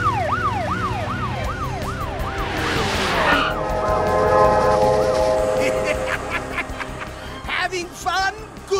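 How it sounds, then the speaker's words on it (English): A wailing siren rises and falls repeatedly, joined by a louder whooshing sweep and blaring horn-like tones amid busy background sound. "Sound the siren, Marshall."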